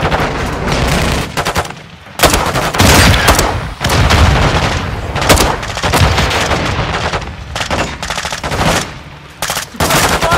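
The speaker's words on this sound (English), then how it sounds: "Suppressing fire!" Loud, dense gunfire from the Modern Warfare 2 prison break mission: rapid automatic bursts and heavy booms overlap in quick succession with brief lulls, close and continuous throughout, with no voices.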